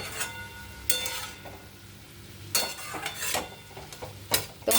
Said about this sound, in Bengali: দেখো বিট ভাজাটা অনেকটাই হয়ে এসছে।